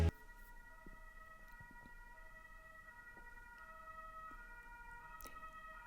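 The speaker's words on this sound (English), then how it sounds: "ambulance, there's an ambulance" A faint ambulance siren wails in the distance, its steady tones held over a low background hum with no voices.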